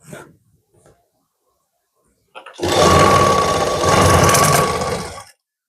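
A sewing machine stitches the lining at the corner of a blouse sleeve, a steady close whirring run of about three seconds after a few soft handling noises and near silence.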